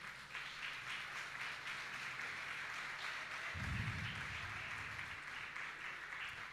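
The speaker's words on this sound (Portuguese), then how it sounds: "Glorifique o Senhor com as suas palmas aí." Church congregation clapping during a revival conference service, a faint, distant wash of applause that holds steady, with a low rumble briefly rising in the middle.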